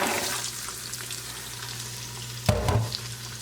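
Carrots hit a hot Crock Pot Express pot with a sudden burst of sizzling midway, over a steady background frying hiss and low hum, then settle back to a gentle crackle.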